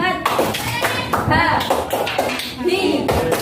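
Children doing the tepuk semangat rhythmic clapping routine at an Indonesian school, loud close patterned claps interleaved with children's chanting voices.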